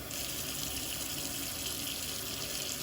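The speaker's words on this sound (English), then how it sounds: "So I'm just going to add some cold water." Cold well water runs steadily from a tap for rinsing homemade butter, making a continuous even hiss and splash close by with no pauses.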